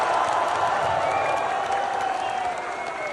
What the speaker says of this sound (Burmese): UFC Flyweight Joshua the Fearless ပါအားလုံးပဲလက်ခုပ်တီးပြီးကြိုဆိုကြရအောင်